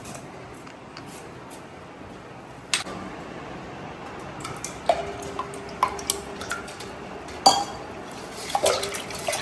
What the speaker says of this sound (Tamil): அதனால் கொஞ்சமாக தயிர் ஊற்றிக்கலாம்.